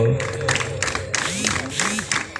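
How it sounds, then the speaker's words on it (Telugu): A crowd at a kabaddi tournament opening at AC Subba Reddy Stadium cheers, shouts and claps loudly and continuously, with excited voices rising through the noise. "క్రీడాకారులందరూ చప్పట్లతో"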